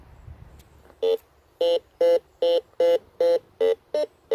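A metal detector gives eight short, evenly spaced electronic beeps, each a clear pitched tone, loud and close against a quiet background, signalling a nickel-type target during a dig.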